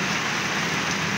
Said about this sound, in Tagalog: So ayan, ulan ng ulan na po dito sa amin